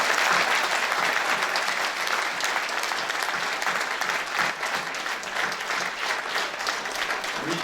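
Strong, sustained applause from the audience at a mayor's New Year address, honoring two people, with dense clapping that holds loud from start to finish.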